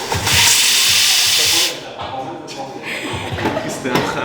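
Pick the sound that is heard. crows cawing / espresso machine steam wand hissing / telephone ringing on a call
espresso machine steam wand hissing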